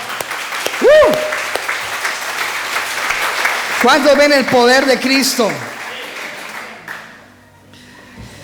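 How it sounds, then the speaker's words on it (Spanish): Church congregation applause and cheering rises under a preacher's amplified voice, with talk and shouts over a steady bed of clapping that fades toward the end. "Denle un aplauso al Señor"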